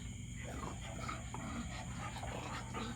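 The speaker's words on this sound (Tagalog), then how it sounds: "The dogs are playing." Dogs playing inside a holiday cabin late at night, heard up close as a steady stretch of panting, snuffling and soft whimpers with scuffling movement, and faint voices in the room.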